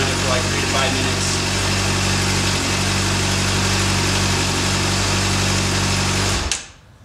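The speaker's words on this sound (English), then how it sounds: "So I'm just running the bike right now." A motorcycle engine idles steadily to warm the oil before an oil change, a loud, close, even putter that cuts off abruptly near the end.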